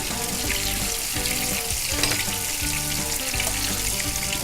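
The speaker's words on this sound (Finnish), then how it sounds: "Anna nyt kiehuttaa hyvin voisi." Butter sizzles and fries loudly in a pan while cheese pies are being made, a dense, steady crackle with no voices.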